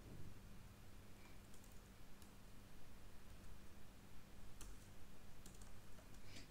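Code typed on a computer keyboard in quick, faint, irregular clicks, low in level against a steady hiss of background noise, with no voices.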